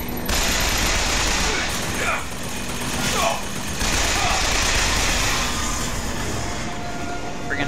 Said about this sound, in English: Friggin' turrets.